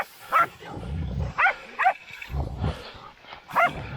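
Hunting dogs during a feral pig hunt in New South Wales, barking and yelping in several sharp bursts amid rough, growling scuffling sounds, close and loud.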